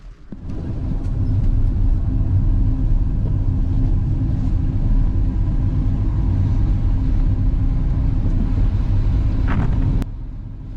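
Steady, loud road rumble and engine drone fill the interior of a car driving through the small hamlet of Ashleyhay, continuous throughout and easing slightly near the end.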